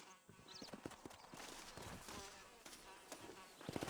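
Horse hooves clip-clop in rapid rhythm in the Red Dead Redemption video game, galloping at a moderate distance and quiet, with an insect-like buzz in the background.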